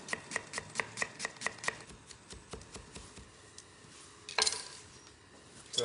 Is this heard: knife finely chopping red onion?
yes